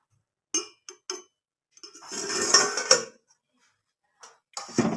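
A metal lid comes off a pan of steaming chitai pitha with a few sharp clinks and scrapes, then a short rush of clattering cookware, and a final knock.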